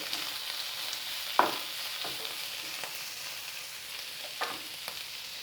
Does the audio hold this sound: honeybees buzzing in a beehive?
no